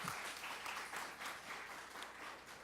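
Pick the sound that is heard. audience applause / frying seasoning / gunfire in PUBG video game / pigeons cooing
audience applause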